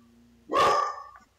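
A dog lets out a single loud, close bark that rings briefly before fading, with quiet before it.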